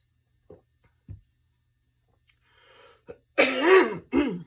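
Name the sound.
throat clearing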